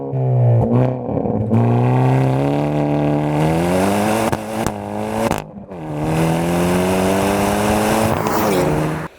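Hyundai Elantra N engine revving hard through the gears, loud and close, its pitch climbing in long pulls with brief drops at each shift, no talking over it.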